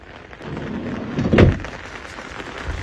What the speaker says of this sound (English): As soon as we step out, the rain.